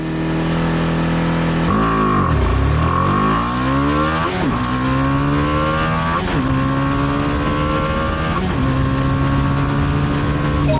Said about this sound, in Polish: Zobaczmy, jak poradzi sobie najmniejszy silnik spalinowy w ofercie BMW.